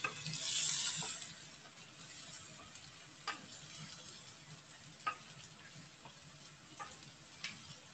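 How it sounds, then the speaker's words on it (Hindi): Chicken white karahi being stirred and mixed in a hot pan, with soft scraping and a steady low sizzle plus a few sharp spoon taps against the metal, close and fairly quiet. "इसको अच्छे से हम मिक्स कर देंगे"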